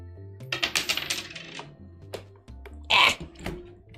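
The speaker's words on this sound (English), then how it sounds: "Let's do a coin toss." A quarter is flipped for a coin toss at a desk, with a quick flurry of close metallic clinks and rattles as it lands and settles, followed by a few scattered knocks.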